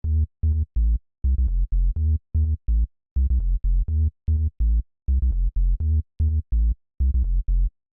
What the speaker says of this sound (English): the first sound I have here is the bass